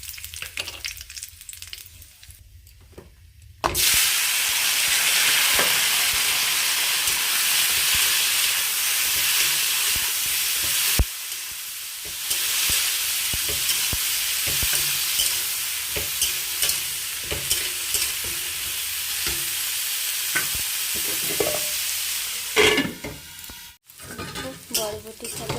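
Dry red chilies and black cumin dropped into hot oil in a wok for tempering: a loud sudden hiss erupts after a quiet start, then sustained crackling sizzle with stirring scrapes that slowly eases.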